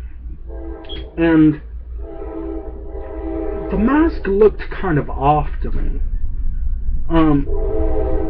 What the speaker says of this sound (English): Sorry, that's the train. I live close to a train